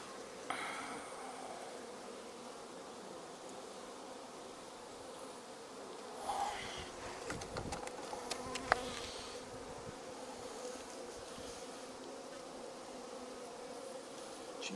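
Honeybees swarm around a large caramel-coloured queen with a black-tipped abdomen inside a hive in October, making a steady, dense buzz that holds throughout, with a few louder close passes around the middle.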